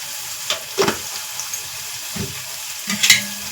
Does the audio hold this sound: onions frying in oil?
yes